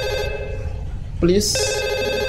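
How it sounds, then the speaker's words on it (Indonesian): A telephone rings in the horror video game Fatal Midnight, a steady electronic tone held over an eerie backdrop that swells into a louder, brighter burst partway through, with a brief spoken word over it. "ada suara telepon"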